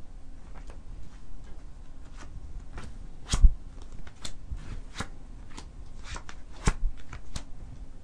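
Fortune-telling cards shuffled during a live psychic reading broadcast, a run of crisp snapping riffles and soft flicks, close and fairly loud, with a couple of sharper slaps partway through and no talking.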